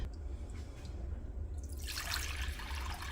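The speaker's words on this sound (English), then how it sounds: "I'm actually going to add some water to this to give it even more weight" Water is poured into a Pyrex dish weighing down cheese being pressed for farmer's cheese or paneer, a close, bright splashing pour that swells partway through over a steady low background.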